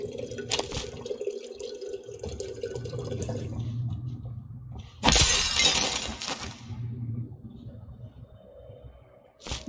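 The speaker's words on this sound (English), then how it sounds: "Break all the glass." Glass smashing in the game Prey: a sharp, bright shatter bursts out mid-clip over a low ambient hum and dripping water, with smaller clinks before and after.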